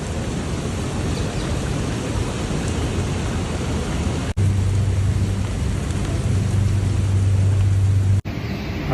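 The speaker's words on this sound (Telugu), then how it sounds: "అందరూ గొడుగులు పట్టుకొని పోతా ఉంటే నేనేమో వర్షంలో తడుచుకొని పోతా ఉన్నా." Rain pours down across a college campus, a dense, loud and steady hiss with no break. A low hum joins partway through, then the sound cuts off sharply at the end.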